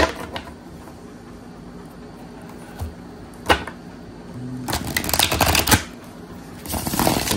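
Cards are shuffled and riffled near the mic in several bursts, with sharp flicks and rustling between quieter pauses.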